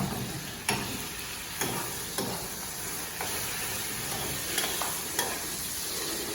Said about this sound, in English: Then we let the garlic saute a little bit